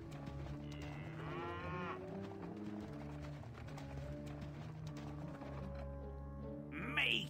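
Cattle moo loudly and repeatedly in the fantasy action game American McGee's Grimm, over hoof clip-clops and a steady game soundscape.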